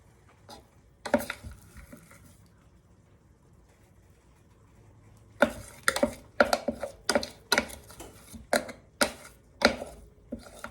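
Quinoa burger mixture scraped from the bottom of a bowl, a few scattered scrapes at first, then after a pause a run of sharp, close, rhythmic scraping and knocking strokes in quick succession.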